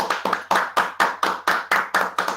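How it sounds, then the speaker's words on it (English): Steady rhythmic hand clapping, about nine evenly spaced claps in a couple of seconds, close and clear with no voices. "Give a round of applause to our doctor."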